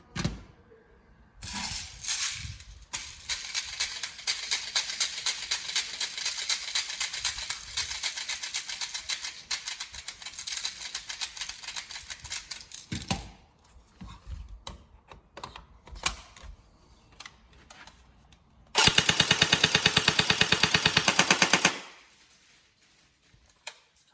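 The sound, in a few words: upgraded TM SGR12 AES airsoft gun firing full auto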